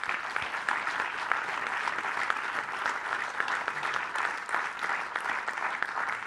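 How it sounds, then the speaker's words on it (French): A crowd at a community celebration of twenty years of an employment initiative applauds loudly and continuously for several seconds, a dense, even wash of clapping heard close up with no speech. "Je voudrais que vous l'applaudissiez très fort"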